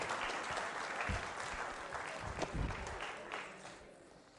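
Audience members at a school quiz show applaud a contestant, a sustained round of many hands clapping that swells with a few louder claps before gradually tapering off.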